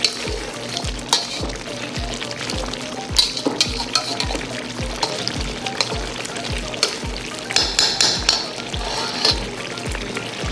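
Onion gravy for chicken karahi cooks over high heat in a wok, a loud close sizzle broken by rhythmic scraping strokes of a spoon against the metal, with occasional clinks and no voices.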